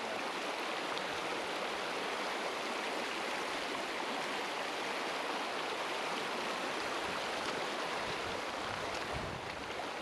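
A trout-fishing river flows in a steady, dense rush of water that holds evenly loud and close throughout, with no voices over it.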